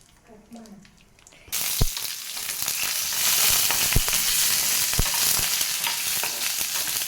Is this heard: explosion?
no